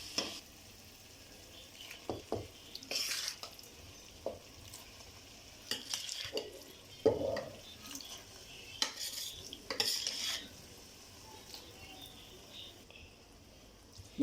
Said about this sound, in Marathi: बघा, आता या आपल्या भाज्या सगळ्या आपल्याला व्यवस्थित एकजीव करून घ्यायच्या आहेत